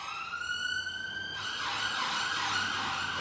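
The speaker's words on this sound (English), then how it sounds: "There's an ambulance probably going to my hospital." An ambulance siren wails outside, first a steady tone, then switching to a louder rapid warble as it passes at moderate distance.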